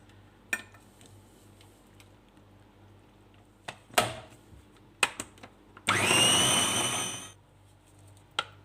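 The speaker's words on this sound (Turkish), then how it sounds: "Şimdi bunları rondodan çekeceğim." Food processor whirring through cooked vegetables for tarhana in a loud burst of about a second and a half, preceded by scattered clicks and clatter of kitchen utensils and dishes.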